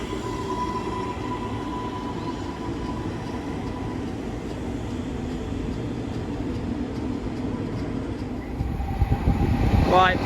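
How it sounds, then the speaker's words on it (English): A London Northwestern class 230 train pulls into Bletchley station, its rumble and rolling wheel noise steady and fairly loud, then swelling with a brief squeal near the end as it arrives. "here we have the one of the London Northwestern services. 230-004 terminating in from"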